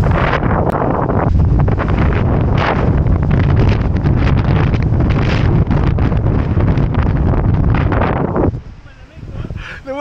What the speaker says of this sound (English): The wind is so strong up here.